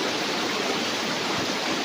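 Steady broadband rush of a river flowing beside a farm lot in Liliw, Laguna, continuous and fairly loud with no voices.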